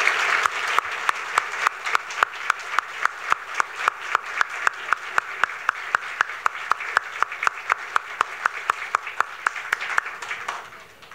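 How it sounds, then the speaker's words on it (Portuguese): A crowd applauds at an academy induction ceremony, honoring literacy teachers, with steady broadband clapping sustained for about ten seconds, punctuated by regular sharp rhythmic claps, and fading slightly at the end. "peço uma salva de palmas"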